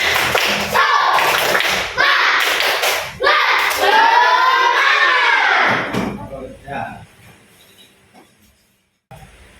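Schoolchildren in a classroom do a rhythmic clapping chant, with loud bursts of claps mixed with voices for several seconds before fading to quiet.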